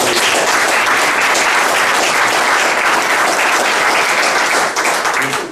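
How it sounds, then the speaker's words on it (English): A live studio audience breaks into a loud, sustained round of applause on a morning television show, dense clapping steady throughout with no speech over it. "we all ought to give a big round of applause to Marty, because we're here."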